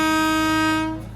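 The horn of the Darjeeling toy train sounds as one loud, sustained, rich harmonic blast, close by, lasting about a second before cutting off and fading into the background.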